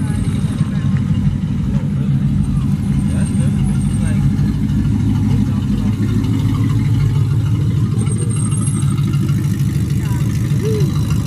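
A Lexus IS 250 car passes at a meet, its engine a steady mid-range rumble throughout, with people talking over it.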